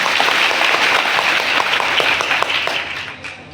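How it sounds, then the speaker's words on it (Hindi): Audience applause at a large student organization meeting: dense, steady clapping from many hands that thins and fades toward the end. "जोर से ताली बजाओ इसके लिए"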